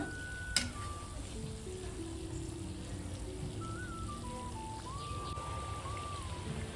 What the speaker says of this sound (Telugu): మనకి ఇంకో వైపు కూడా తిప్పుకుని డీప్ ఫ్రై చేసుకుందాం